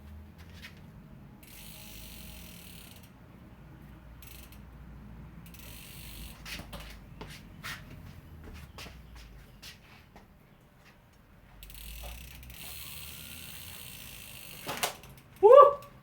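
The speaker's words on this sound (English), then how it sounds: "It did kind of sound like the brake was rubbing though." Mountain bike wheel with a disc brake rubbing spins on a stand, giving a soft repeated scraping and ticking, with sporadic mechanical clicks and a louder rattle near the end, close and moderately quiet.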